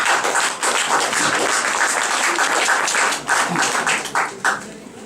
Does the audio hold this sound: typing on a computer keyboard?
no